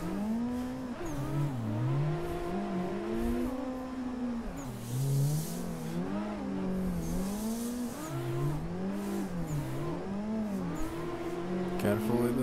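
A car drifting around a playground course, engine revving up and down in wavering sweeps with tire squeal over it, continuous and fairly close, while a voice talks over it at times.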